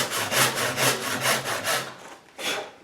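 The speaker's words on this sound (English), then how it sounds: "And then all I'm going to do is take my handsaw." A handsaw cuts through wood in steady back-and-forth strokes, about eight rhythmic rasping passes close up, then a brief pause and one more stroke, with no talking.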